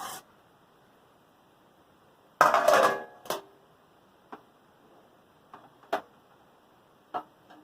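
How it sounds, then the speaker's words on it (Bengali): A metal plate set down over hilsa fish frying in a pan, with a loud clattering clank followed by several sparse, light taps and knocks in an otherwise quiet kitchen. "এবার মাছগুলোকে ঢেকে দেবো থালা দিয়ে।"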